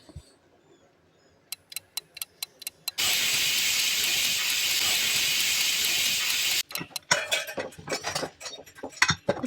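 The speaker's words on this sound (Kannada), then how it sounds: "ಕುಕ್ಕರ್ ಕ್ಯಾಪ್ ಕ್ಲೋಸ್ ಮಾಡಿ 2 ವಿಷಲ್ ಕುಕ್ಕರ್ ಕೂಗಿಸ್ಕೋಬೇಕಾಗುತ್ತೆ." A pressure cooker cooking kushka rice lets out a loud, steady steam hiss for several seconds, with scattered metallic clinks of utensils before and after.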